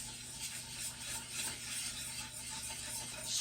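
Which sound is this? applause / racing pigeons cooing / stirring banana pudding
stirring banana pudding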